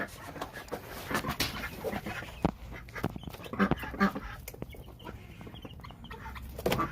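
Chickens clucking in a busy farmyard with ducks, a steady stream of short calls overlapping one another, with a few louder squawks standing out and no talking.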